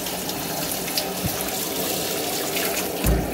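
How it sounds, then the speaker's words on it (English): Steady rush of water pouring from a tap into a tub, continuous and close, with a small splash near the end. "So I'm going to add some water to my tub."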